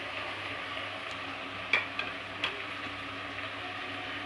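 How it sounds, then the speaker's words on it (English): Mutton frying in a pan over a medium-high flame, giving a steady, moderately quiet sizzle with a few brief clicks and stirring knocks partway through. "I am frying the mutton on medium to high flame."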